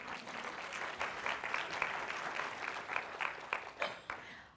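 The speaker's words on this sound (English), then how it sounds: "So give yourself a round of applause." A studio audience claps together in a steady round of applause at a writers' event in Hattiesburg, dense and continuous, then trailing off at the end.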